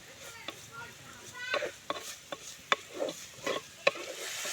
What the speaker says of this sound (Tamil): இப்போ இதெல்லாம் கலந்து விட்டு கொஞ்சம் நேரம் வேகட்டும்